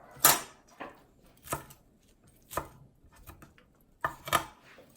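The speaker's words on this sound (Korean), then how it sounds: "이런 거 썰 때는 뭐 크기를 얼마나 썰어야 먹기 편할까요?" Knife chopping vegetables on a cutting board in a home kitchen while making konjac noodles, with sharp, distinct cuts at an irregular pace and clear pauses between them, close and fairly quiet, with no talk.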